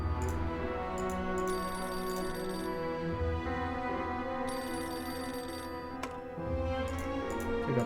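A phone ringing in the video game Beholder 2, a sustained electronic ring with repeated pulses over a continuous tonal music bed, moderately loud with no talking.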